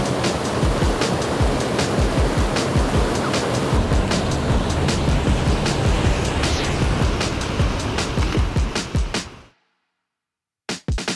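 Loud, dense rushing water from a creek near a waterfall on Australia's Old Telegraph Track, a steady close roar with no voices, cutting out briefly near the end.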